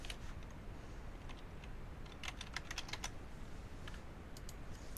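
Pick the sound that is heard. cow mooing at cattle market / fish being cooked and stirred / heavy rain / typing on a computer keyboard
typing on a computer keyboard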